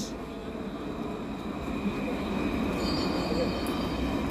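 A Dublin tram rumbles past outdoors in Ireland with a steady, rising roll of wheels on rails that grows louder toward the end.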